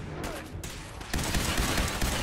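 Gunfire in Fallout 4: a short burst of loud, dense shots, then a heavier sustained volley that fills the rest of the moment, close and forceful with no voice over it.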